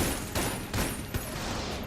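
The Big Iron gun fires in Enter the Gungeon, sharp shots landing roughly every half second over a dense, noisy backdrop of game sound.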